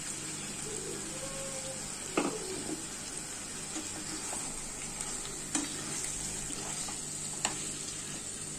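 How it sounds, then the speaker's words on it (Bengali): Marinated chicken fries with onion, ginger-garlic paste and spices over a medium flame for a dhaba-style chicken curry, making a continuous close sizzle broken by three sharp spoon scrapes and clacks. "ভালো করে মশলার সাথে মাংসটা কষে নিতে হবে নেড়ে নেড়ে।"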